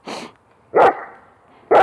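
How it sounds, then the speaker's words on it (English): Three sharp barks from an Eastern European Shepherd spaced about a second apart, loud and close, with quiet pauses between them. "There's some barking here."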